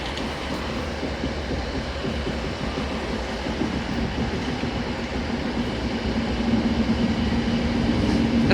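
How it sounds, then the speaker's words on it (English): An Avanti West Coast Pendolino bound for Glasgow Central from London Euston rolls past at Carlisle with a steady, close rumble and rail clatter that builds slightly toward the end, no voices. "here is the 1603 Avanti West Coast service to Glasgow Central from London Euston"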